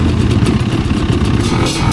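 Dirt bike engines running loud and close in a mountain field in British Columbia, a steady rough rumble with rising and falling revs and mechanical clatter.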